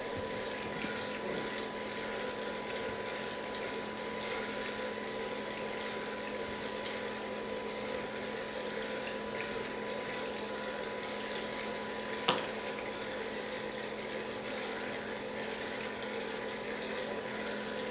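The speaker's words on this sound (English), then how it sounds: "As you can see, many bubbles right now in the water" Water bubbles and swirls in a vortex during ozonation, a faint, steady hiss with a constant hum throughout and one brief sharp tick near the end, no talking.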